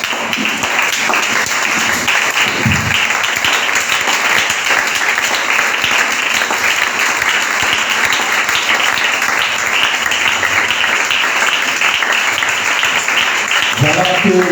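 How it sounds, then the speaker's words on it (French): A church congregation at a Sunday service applauds loudly and continuously for many seconds, a dense roar of clapping filling the room, with a voice heard briefly near the start and end. "Nous pouvons nous asseoir en acclamant très fort pour la gloire de Dieu."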